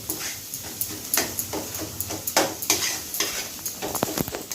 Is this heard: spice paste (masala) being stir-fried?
yes